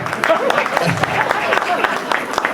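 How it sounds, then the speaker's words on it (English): An audience claps for a guest at a rabbi's talk, a busy crackle of hands under voices and crowd murmur across the moment. "Give him a round of applause"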